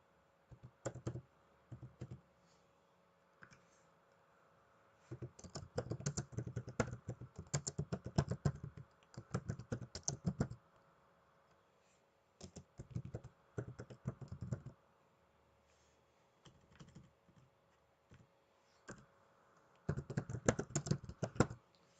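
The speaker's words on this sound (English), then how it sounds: "Let's type some crap in." Someone types on a computer keyboard in quiet, close bursts of rapid key clicks separated by short pauses, with no voices heard.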